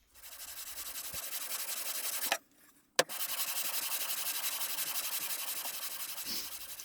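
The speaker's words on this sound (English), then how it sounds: "you just lightly just rub it back and forth really until eventually you get the radius" A bass guitar body is hand-sanded to a radius with 80 grit, giving close, steady back-and-forth rubbing strokes that pause once briefly, with no talk.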